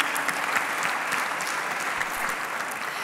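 An audience at a European climate conference gives a dense, continuous round of applause for a speaker, steady and fairly loud from start to finish with no voices over it.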